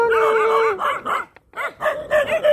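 Several dogs bark and yip close by in rapid overlapping bursts, with a brief pause before the barking resumes, some high-pitched and whining.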